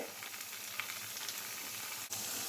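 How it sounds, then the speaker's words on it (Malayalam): Chempalli, a red snapper, fries in a pan with a continuous soft, hissing sizzle at low volume, broken by a brief clack near the end, with no voices. "നമ്മുടെ ചെമ്പല്ലി ഇവിടെ നല്ലതുപോലെ ഫ്രൈ ആയി വന്നിട്ടുണ്ട്"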